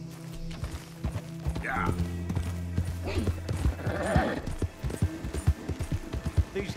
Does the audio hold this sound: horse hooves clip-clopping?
yes